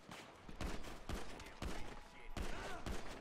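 Rapid bursts of gunfire ring out in the GTA 5 video game, several sharp volleys in quick succession at moderate distance, rather faint overall.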